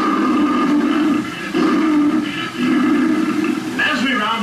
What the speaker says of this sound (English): Off in the distance comes the fierce roar of an African lion.